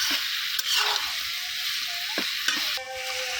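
Cauliflower and tomato sauté in oil in a pan with a loud, continuous sizzle. Repeated scraping stirs and clinks of a utensil against the pan sound up close without talk.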